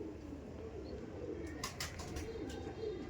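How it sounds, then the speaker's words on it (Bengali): Andhra pigeons at a dealer's loft give soft, low cooing that rolls on steadily through the moment, close by, with a few faint higher chirps and a brief burst of clatter partway through. "দেখুন খুবই সুন্দর কোয়ালিটিফুল পায়রা আমাদের রাজুদার কাছে আছে"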